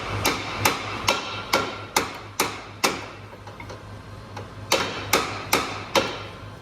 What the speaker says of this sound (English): First, I'm going to tap this bolt out. So, you get a hammer and a punch.